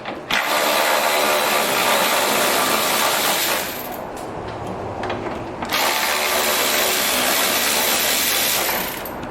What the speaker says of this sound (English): having one of these electric ratchets is a very nice,